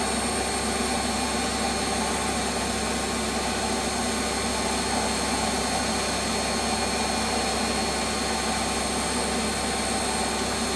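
Metal lathe taking a light finishing skim cut along the outer diameter of a turned part for a ball turning tool, a steady loud broadband whir with constant hiss throughout and no clear pauses.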